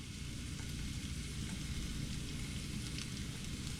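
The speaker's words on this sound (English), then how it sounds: "I'm gonna add my salami, my handful that I have. Trying to break it apart." Thinly cut salami frying in a pan as it is broken apart, a steady dense crackling sizzle, close and fairly quiet, continuous with no talking.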